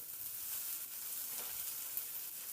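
Chopped onion, cut large, sizzles steadily in a pan after the tempering spices, with a soft continuous hiss and faint stirring, no voices.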